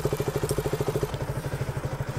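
A KTM Duke 200 motorcycle engine running at idle close by: a rapid, even, thumping pulse with steady clatter that continues throughout at moderate loudness, with no talking.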